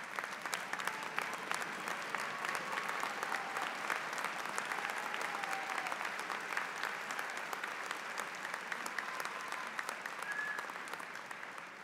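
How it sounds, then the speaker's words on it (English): Sustained applause from a large commencement crowd honoring graduates' families and friends, steady and dense throughout with no voices over it, tapering slightly at the end. "ask all the members of families and friends of graduates to rise so we can applaud you"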